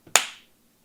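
A single sharp hand clap rings out close and alone in a quiet room, with a small tap just before it and a short decay afterward.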